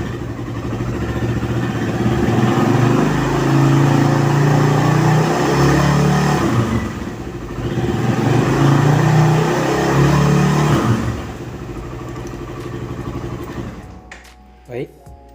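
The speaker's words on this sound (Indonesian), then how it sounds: "Jadi pada saat kita tarik tuas gas, kemudian jarum indikator RPM ini naik sampai 4500" Suzuki Satria FU motorcycle with a carburetor engine, revved up toward 4500 rpm twice, each throttle blip rising to a sustained loud mechanical roar then easing back to idle, heard close up before the engine cuts near the end.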